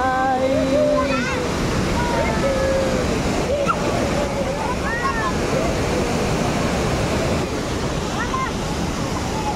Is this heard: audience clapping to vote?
no